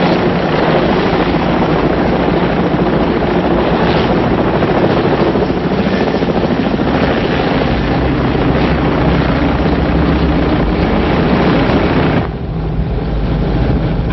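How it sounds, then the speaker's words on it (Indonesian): Helicopter in an Indonesian action film, a loud continuous rotor drone and engine roar close by, steady throughout with a slight drop near the end. "Hei, ada helikopter mengikuti kita."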